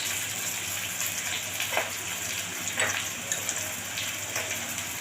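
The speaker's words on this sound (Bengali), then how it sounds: "ক্যাপসিকামগুলো হালকা ভাজা হবে।" Capsicum for dry chilli chicken sizzles lightly in a pan, a steady hissing fry with soft crackles and faint bursts, heard alone and fairly close.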